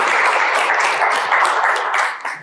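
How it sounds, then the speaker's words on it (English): Audience applause after a guest is introduced at a coaching café panel, a steady wash of many hands clapping at close range, holding for a couple of seconds before thinning out. "Please give Ajay a round of applause."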